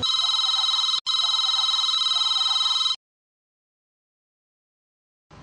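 A telephone rings with a steady electronic trill, one long burst broken by a brief gap, then silence before a short start of another ring.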